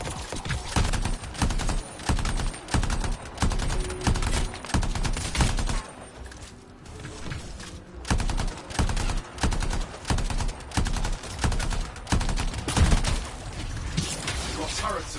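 Turrets fire in the sci-fi shooter Anthem, dense bursts of rapid gunfire stuttering almost continuously over layered game noise and music, loud and close, with a short lull in the middle before the volleys resume.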